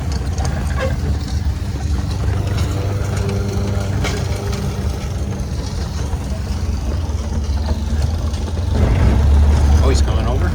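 A 1931 Ford Model A pickup with coolant spraying from its radiator cap creeps along in third gear at around 18 mph. Its low engine rumble drones steadily up close and swells louder near the end.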